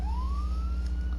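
A siren wail rising steadily in pitch, heard at moderate distance over a low rumbling background, with no voices.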